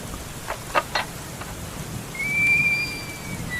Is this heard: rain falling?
yes